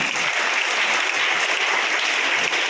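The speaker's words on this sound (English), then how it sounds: "Please congratulate them with your claps" Students applaud at a Children's Day school program at Little Genius High School in Korutla, a loud, continuous wash of clapping that holds steady from start to finish.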